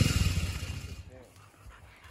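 A small dog pants rapidly and rhythmically up close, then lets out a faint whimper as the breathing trails off; a person speaks briefly.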